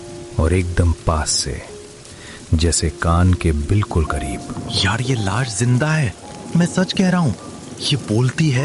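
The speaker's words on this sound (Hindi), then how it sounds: "बारिश इतनी तेज हो गई कि स्कूटर चलाना मुश्किल हो गया" Heavy rain pours steadily throughout, with possible low thunder, sitting beneath a man's continuous close-up storytelling voice that dominates the foreground.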